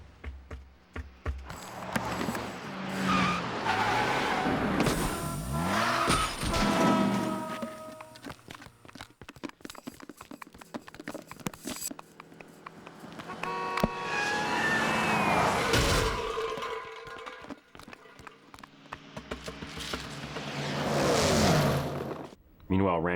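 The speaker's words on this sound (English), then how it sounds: "the cars driving overhead and smashing into each other" Animated-film sound effects of cars driving overhead, skidding and smashing into each other in a big street wreck, with bursts of engine roar, tire screeches and crashing impacts rising and falling over about twenty seconds.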